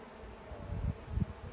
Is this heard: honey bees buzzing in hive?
yes